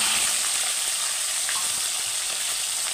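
Chicken, tomato, potato and onion fry together in a pan with bay leaf, green chilli and whole cumin, giving a steady, dense sizzle that holds evenly throughout at close range, with no talk.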